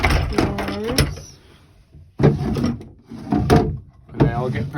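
Storage drawers in the cabin of a Columbia 36 sailboat slide open one after another, each giving a brief, close wooden rumble. A voice is heard briefly at the start.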